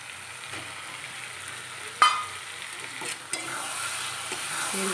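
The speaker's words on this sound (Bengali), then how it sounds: "চর্বিটা দিয়ে ভালো করে কষিয়ে নিচ্ছে" Goat fat frying with chickpeas in a pan, a soft continuous sizzle with a sharp clack of a spoon or lid partway through and occasional light stirring scrapes.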